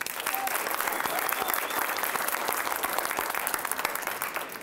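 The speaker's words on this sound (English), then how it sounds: "A round of applause for our MCs today." Sustained applause from an audience at a children's speaking event, a dense wash of many hands clapping continuously at moderate, even volume with no talk over it.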